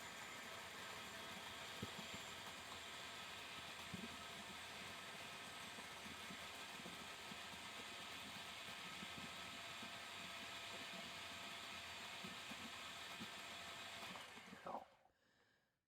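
A food processor whirs continuously as it chops hot sauce ingredients, a steady droning motor hum running for about fifteen seconds before winding down, close and even with no talk.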